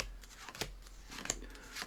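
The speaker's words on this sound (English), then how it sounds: "let me just show you this crazy new shuffle here" A deck of playing cards is shuffled by hand in an under-down pattern, with crisp, irregular riffling snaps close to the microphone and no talking.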